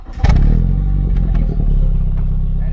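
A Mini Cooper S engine restarts and revs loudly and steadily close by, a deep throaty rumble holding high.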